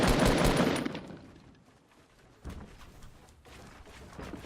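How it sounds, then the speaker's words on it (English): Gunfire in the video game Fortnite with a sniper shooting at the players, heard as a loud burst of shots followed by a quieter stretch and then further reports, with no talk. "So there was a guy sniping at us and is actually approaching us right now."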